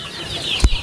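A gamecock gives a single short cluck near the end of a brief moment of quiet farmyard background.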